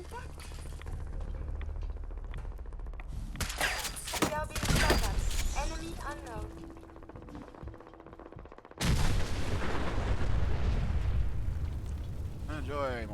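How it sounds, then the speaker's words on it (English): Gunfire in a video game, with scattered shots and booming impacts mixed with electronic effects, a loud burst of noise near the end, and a voice talking over parts of it. "We are being shot at."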